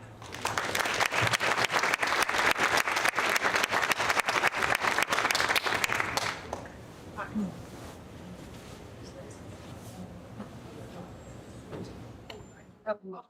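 Audience applause welcoming speaker Eve Schaub at a talk, with dense, loud clapping for about six seconds that then stops, followed by quiet room noise and faint shuffling.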